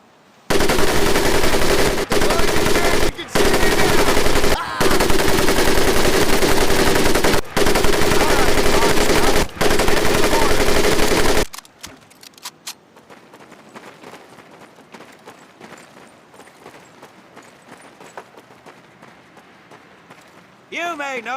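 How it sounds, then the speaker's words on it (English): Loud, sustained bursts of M1919A4 .30 caliber machine gun fire in a WWII Pacific combat game, broken by short pauses, then giving way to quieter background noise and voices. "M1919A430 caliber machine gun."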